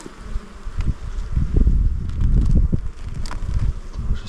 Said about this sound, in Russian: Пчелки.